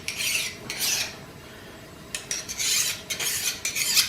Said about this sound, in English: I'm going to run a file over it and see what happens.